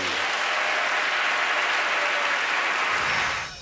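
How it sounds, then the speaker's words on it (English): Audience applause for a senior school girls' choir after a church music competition performance, a dense steady wash of many hands clapping loudly and evenly throughout before fading at the very end. "a huge round of applause for Godolphin!"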